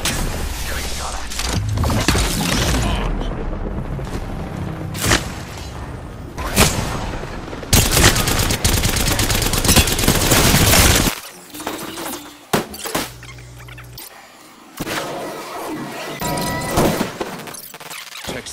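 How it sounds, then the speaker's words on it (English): Gunfire in the battle royale game Apex Legends, with bursts of shots and crashing, shattering impacts across a busy firefight, some hits loud and close, others more distant, with brief pauses between exchanges. "Getting shot at."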